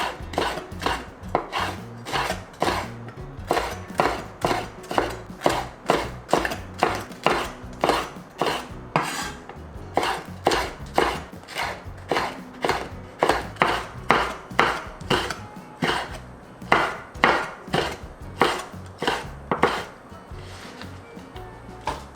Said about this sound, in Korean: 이렇게 채 썰어 줄게요